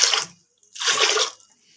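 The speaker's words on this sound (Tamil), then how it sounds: "இதில் ஒரு 5 கிளாஸுக்கு தண்ணி ஊற்றிடலாம்." Water is poured from a glass into a pressure cooker holding rice, in two splashy bursts with a short pause between, close and fairly loud, with no talking.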